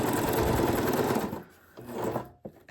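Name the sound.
sewing machine stitching junk journal tags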